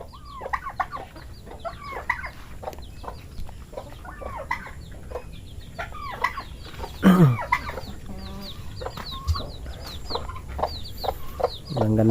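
Several chickens cluck steadily near their worn-down, sagging coop on a farm. The clucks come in repeated close bursts, with one louder squawk partway through.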